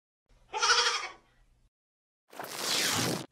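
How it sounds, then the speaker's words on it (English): A goat bleats in two loud, drawn-out calls separated by a short gap, the second call harsher and breathier, with no talking. "G is for goat."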